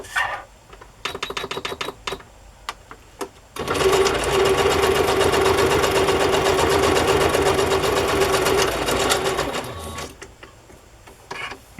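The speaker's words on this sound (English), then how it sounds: "So I'll just sew this on." A sewing machine stitches paper pages for a wire-bound sewing pattern journal. A few sparse clicks come first, then a loud, steady, close mechanical whir runs for about six seconds before it slows and stops.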